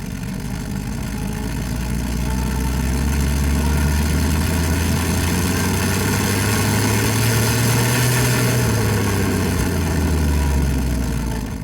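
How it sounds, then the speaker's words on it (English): A vehicle engine recorded running up from low to high RPM, a steady loud drone whose pitch climbs slowly, then eases back near the end. "you record the full acceleration process of a vehicle from low to high RPM"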